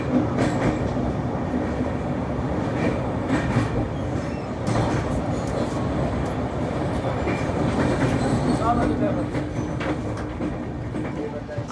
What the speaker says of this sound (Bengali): আমাদের ট্রেন জাস্ট ঝাড়খণ্ড ক্রস করে বিহারে ঢুকলো।